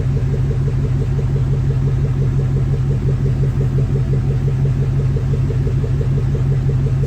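A 2003 Ford Mustang Mach 1 idles with a wheel removed, a steady, close, low rumbling drone with an even pulsing rhythm that holds throughout.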